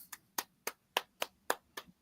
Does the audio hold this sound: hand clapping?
yes